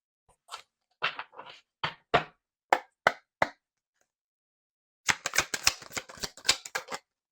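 A tarot deck is handled and shuffled close up: scattered soft card slaps and riffles at first, then a quiet pause, then a dense, quick riffle shuffle of crisp flicks.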